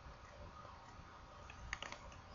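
Faint computer keyboard typing in a quiet room: a short run of soft, light key clicks over a low steady background hiss, with no voices.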